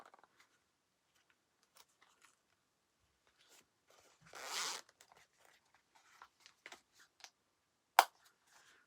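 Zipper on a sewn fabric pouch for a chequebook and cards, pulled once in a short soft run, followed by faint clicks, handling noises and one sharp snap in a quiet room.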